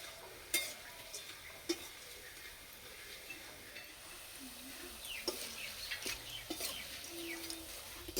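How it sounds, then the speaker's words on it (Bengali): Jhuri, a crispy snack, deep-frying in hot oil gives a faint, soft bubbling sizzle, broken by a few sharp clicks and stirring knocks at close range. "আর এই যে ঝুড়িগুলো ভাজা হচ্ছে"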